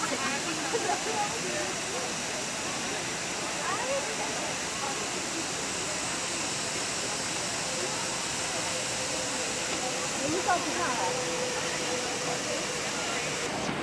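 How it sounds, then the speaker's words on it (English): Multnomah Falls, a waterfall in Oregon, pours out a steady, dense roar that fills the whole stretch without a break, loud and close. "This is a beautiful waterfall."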